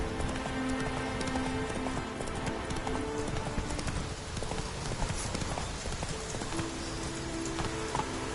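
Horse hooves clip-clopping steadily in The Witcher 3, a continuous trotting rhythm under a hiss resembling rain, with no talk.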